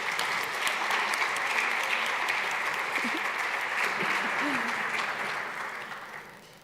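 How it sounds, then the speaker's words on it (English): Audience applause on a conference main stage, a dense, sustained wash of clapping from a large crowd that holds steady for several seconds before tapering off, with a few voices and cheers mixed in. "Put your hands together and a round of applause."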